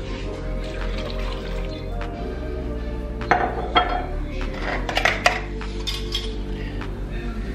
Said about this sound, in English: we're going to stir in the rice, peas, which I'm using green beans instead of peas, broth, and 1 cup of cheese